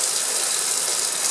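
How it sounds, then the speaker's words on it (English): Laboratory vacuum aspirator and fan running together during a sulfonation to make p-toluenesulfonic acid, heard as a loud, steady airy hiss and whirr with no change over the short stretch and no voices. "Pardon the sound of the aspirator and the fan going at the same time."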